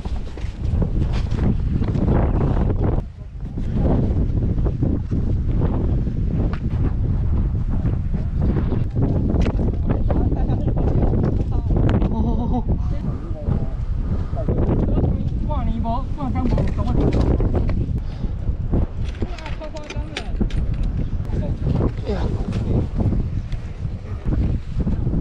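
Strong wind buffets the microphone on a steep mountain ridge trail beside a cliff, a loud, gusty, continuous roar with faint voices talking underneath at times.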